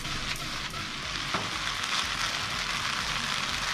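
Fried rice sizzles steadily in a hot pan while being stirred and tossed, a dense crackling hiss with occasional scraping knocks, close up and without speech.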